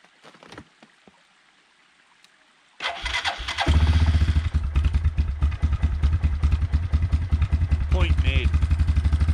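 A Yamaha Kodiak ATV engine cranks briefly and catches, then settles into a loud, steady, close idle rumble, with a few quiet knocks before the start.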